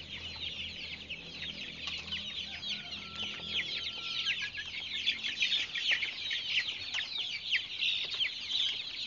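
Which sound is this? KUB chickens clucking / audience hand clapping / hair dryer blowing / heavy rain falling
KUB chickens clucking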